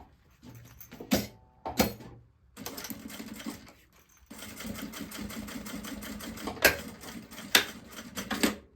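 A sewing machine topstitches a maternity bag in several bursts of rapid mechanical stitching, separated by brief pauses and sharp clicks as the fabric is handled, all close and clear with no talking.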